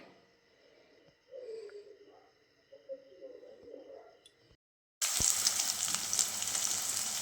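Onion, garlic, dried red chilli, bay leaf and ginger hit hot oil in a pan for ghugni, a loud steady sizzle rising suddenly after a stretch of quiet talk and lingering to the end.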